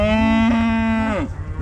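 A bred heifer on a farm lets out one loud, close moo that holds steady for about a second, then bends downward and stops sharply. Nobody speaks.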